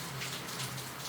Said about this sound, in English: This rain. Ooh, this rain. I love rain.